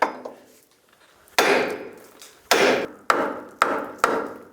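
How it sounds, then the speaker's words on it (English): Five sharp metallic hammer strikes on a 2003-2009 Toyota 4Runner steering knuckle ring out, each with a short resonant decay, spaced unevenly about a second apart after a quiet start. "Now take your hammer and hammer right here"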